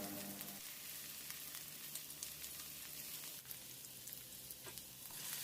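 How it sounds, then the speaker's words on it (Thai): Minced garlic stir-frying in hot oil: a continuous, quiet sizzle with soft crackles and occasional scraping stirs. "ตั้งกระทะเปิดเตาพอน้ำมันร้อนใส่กระเทียมสับลงไปผัดให้หอมครับ"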